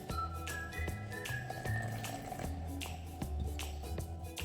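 Hot water pours and splashes into a bowl of flour amid light clinks and kitchen clatter, steady and close, with no one speaking.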